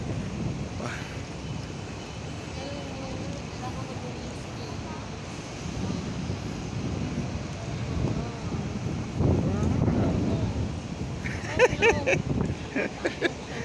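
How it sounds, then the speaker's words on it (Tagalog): Strong wind sweeps along Nathan Road in Hong Kong, a continuous low rushing roar that swells midway, with muffled voices and faint street sounds underneath. "Lakas ng hangin."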